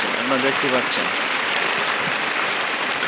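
Heavy rain pours steadily as a flock of ducks walks through a roadside turn, a dense hiss throughout with someone talking over it and no distinct footsteps or quacks.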